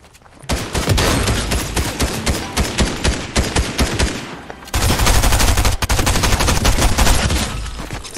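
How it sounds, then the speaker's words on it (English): Loud, rapid automatic gunfire from a video game shooter fills the clip in dense bursts, breaks off briefly partway through, then resumes just as intensely. "I was shooting him in the face"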